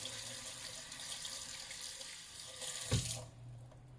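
A tap runs steadily into a sink while soap lather is rinsed off hands, a constant splashing hiss that breaks off with a brief knock near the end, leaving quiet.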